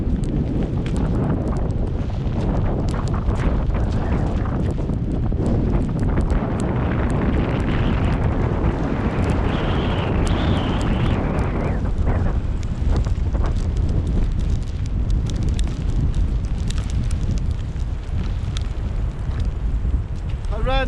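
Strong storm wind batters a campervan in the Scottish Highlands during a snowstorm, a continuous loud roaring buffet with gusting rumble that stays constant throughout.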